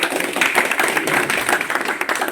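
An audience at a BJP office gathering in Kathua claps steadily in a dense, even patter of many hands, loud and close, throughout.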